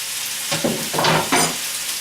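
Food sizzling and frying in a hot wok, with three short bursts of stirring and scraping over a continuous crackling hiss, close by and with no talk.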